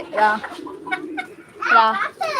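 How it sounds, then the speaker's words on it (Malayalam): A hen clucks in short bursts in a backyard poultry setting, with a voice and other talk mixed in among the calls. "അപ്പൊ ഒരു കോഴി ഇവിടെ ഉണ്ട്"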